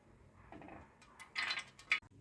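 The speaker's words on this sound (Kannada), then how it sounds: "ಈಗ ಬ್ರೆಡ್ ಕರಿಲಿಕ್ಕೆ ಕಡಾಯಿ ಇಟ್ಕೊಂಡಿನಿ, ಗ್ಯಾಸ್ ಹಚ್ಚೋಣಂತ." A kadai pan is set down on a gas stove, ready for frying bread in oil, making a few faint metallic clinks and knocks that end in two brighter clanks.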